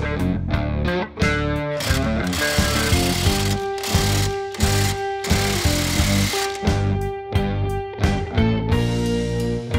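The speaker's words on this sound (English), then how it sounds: "Now we're gonna go ahead, pop in the upper ball joint" Tools at work fitting an upper ball joint into the front axle of a lifted 2000 Jeep Wrangler TJ: close, loud, choppy bursts of mechanical whirring with ringing metallic tones and brief pauses, no talking.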